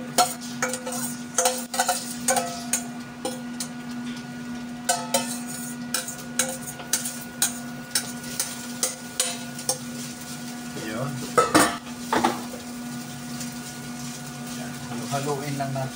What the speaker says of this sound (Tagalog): haluin lang natin konti